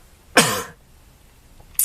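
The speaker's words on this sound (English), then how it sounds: "Coughing the whole way through." One sharp, close cough, followed after a short pause by the start of a second cough just as the sound cuts off.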